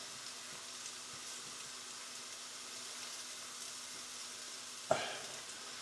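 Garlic cloves and cayenne pepper frying in a hot pan for chilli con carne give a steady, soft sizzle, with a sharp clink of a utensil against the pan near the end.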